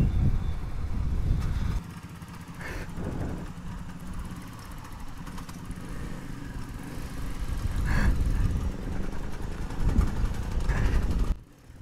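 A group of about 20 to 25 Royal Enfield motorcycles rides out on a long tour from Jabalpur. A dense, low engine rumble swells and fades as the bikes pass, loud and close at times.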